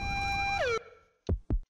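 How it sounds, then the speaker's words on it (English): Ambulance siren in the game Postal Redux, a loud sustained wail that drops sharply in pitch and cuts off, followed by two short heavy thuds. "Right by an ambulance, too."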